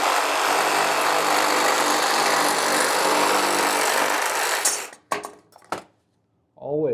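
A power saw cuts through PVC pipe with a loud, continuous buzzing roar for several seconds, then stops with a few clunks and a short silence, and a voice begins at the end.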